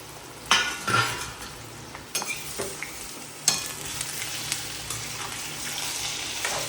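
Potato strips frying in hot oil for homemade chips, a steady sizzle with occasional clinks and stirring scrapes of a utensil against the pan, close and fairly quiet.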